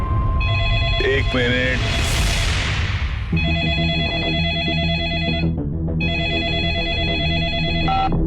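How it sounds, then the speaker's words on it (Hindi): A telephone rings in repeated electronic bursts, loud and close, with short pauses between rings, while people talk over and between them on a stunt reality show set. "मम्मी का फोन है"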